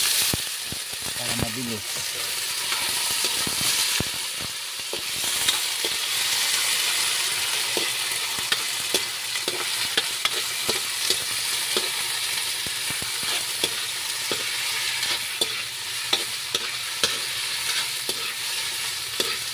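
Shrimp fresh from the sea frying and sizzling in a pan, with steady broadband crackle and occasional stirring clatter throughout, close and fairly loud, with brief speech near the start.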